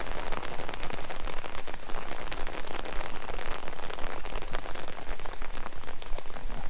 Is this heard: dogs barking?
no